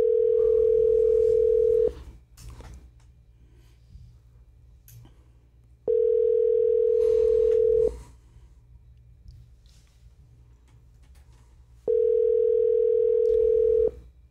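Telephone ringback while a call waits to connect before going to voicemail: three long, steady, evenly spaced tones, each about two seconds, with quiet gaps and faint room noise between.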